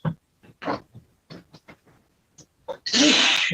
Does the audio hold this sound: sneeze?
yes